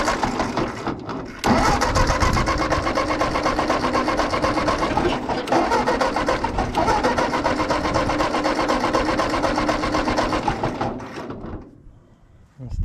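An Allis Chalmers WD tractor engine cranks over without firing, a loud continuous rhythmic churn of the starter that runs steadily for about ten seconds before winding down and stopping.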